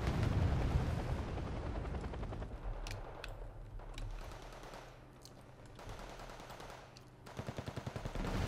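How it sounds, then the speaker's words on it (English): A Tigre attack helicopter in the war game Wargame Red Dragon lets loose bursts of rapid gunfire over a dense, rumbling battlefield roar, with scattered booms and a final clattering volley of automatic fire. "Cool looking attack helicopter."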